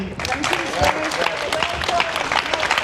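Audience at an Oldham protest by parents against grooming clapping steadily, a dense wash of applause with crowd noise and scattered voices mixed in throughout.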